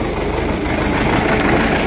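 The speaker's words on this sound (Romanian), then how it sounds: "Că vine tractorul și nu le las să nu le calce." Farm tractor engine approaching on a rural lane where ducks, geese and turkeys graze, a loud steady low rumble filling the scene without voices.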